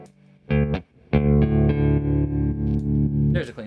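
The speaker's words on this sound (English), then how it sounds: "There's a clean tone." Clean electric guitar tone played close and steady: a short plucked note, a pause, then sustained ringing chords with a light effects shimmer, no talking.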